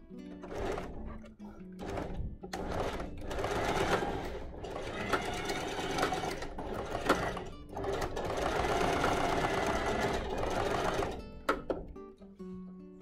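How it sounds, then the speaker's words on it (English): A sewing machine straight-stitches elastic in rapid whirring bursts, stopping and starting several times with brief pauses between runs, close and clear. "I'm just going to do a straight stitch, doing lots of up and down and up and down and up and down."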